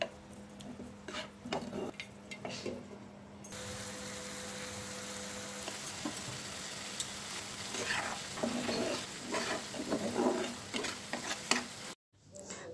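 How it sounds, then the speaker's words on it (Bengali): Pieces of karfu fish belly fry in spiced oil with lemon leaves, giving a steady close sizzle broken by scraping stirring strokes. Near the end the sound briefly cuts out. "মাছ ভাজাটা প্রায় হয়ে গেছে"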